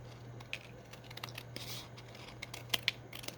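Scissors trim scraps of woven paper for a craft journaling card, giving a few sharp snips and crisp crinkles close by over a low steady hum in a quiet room.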